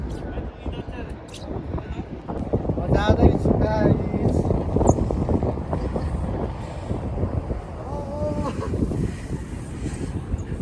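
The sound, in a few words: strong wind at a seaside park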